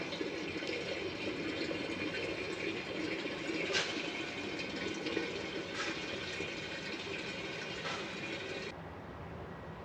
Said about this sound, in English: there's a little pipe in there that we need to remove to make sure we get all the fluid out